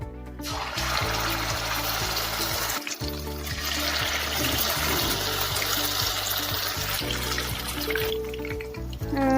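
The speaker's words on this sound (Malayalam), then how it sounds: "അപ്പോൾ ഫ്രൈ ചെയ്യാൻ ഇട്ടിട്ടുണ്ട്." Battered marinated chicken pieces frying in hot oil for crispy fried chicken, a loud, steady bubbling sizzle that holds through the whole stretch with no talking.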